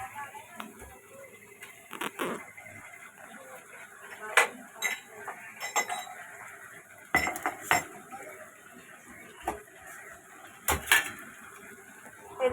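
Garam masala spices being pounded and crushed, heard as sporadic sharp knocks and clatters against a hard surface, spaced irregularly over a quiet kitchen background.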